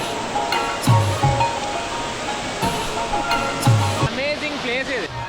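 A waterfall in Jamaica roars with a constant broad rush of falling water while visitors climb its slippery rocks. Voices talk and call out over the continuous noise.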